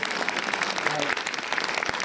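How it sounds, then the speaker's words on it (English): A crowd at a museum exhibition opening claps in a brief, moderate burst of applause, indoors. "deserves a round of applause"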